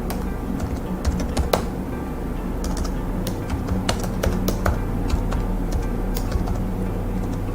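Steady typing on a computer keyboard, close and clear, with irregular bursts of key clicks and occasional louder keystrokes over a soft room hum.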